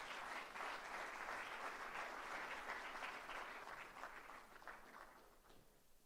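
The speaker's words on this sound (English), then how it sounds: "please, a round of applause to His Excellency" Sustained applause from a forum launch ceremony audience welcoming His Excellency Hailemariam Desalegn, a dense steady wash of many hands clapping that holds evenly for several seconds, then tapers slightly toward the end.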